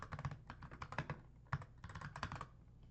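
Rapid keystrokes clatter on a computer keyboard, close and fairly quiet, in uneven bursts of clicks with brief pauses between words and no talking.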